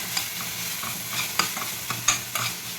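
Steady sizzle of ginger, garlic and coriander paste with green chillies frying in a pan, broken by several sharp scrapes and clinks of a spoon as it is stirred, close and moderately loud.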